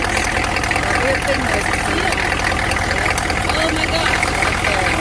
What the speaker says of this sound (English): I'm starting the truck